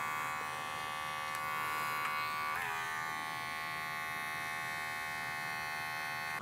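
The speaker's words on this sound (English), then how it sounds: "Edging out with my GDX Andes trimmers." Close, steady electric buzz of GDX Andes hair trimmers edging the hairline during a curly haircut, running continuously with a brief shift in pitch partway through.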